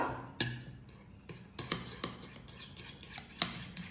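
A spoon stirring bread pudding mixture in a bowl, giving a series of faint, irregular clinks and scrapes of metal against the dish with soft rustling between them.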